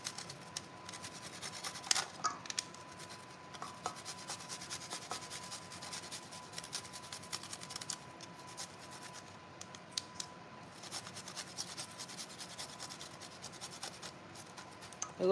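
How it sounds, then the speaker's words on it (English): Garlic cloves rubbed against a small kitchen grater: a soft, steady scraping and rasping with short irregular strokes, quiet and close, with no talking. "So this is just some garlic that I'm grating."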